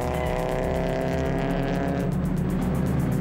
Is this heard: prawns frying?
no